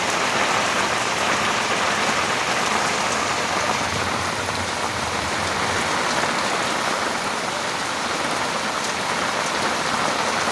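Heavy rain pours steadily and loudly throughout, a dense continuous hiss of drops drumming on surfaces with no voices.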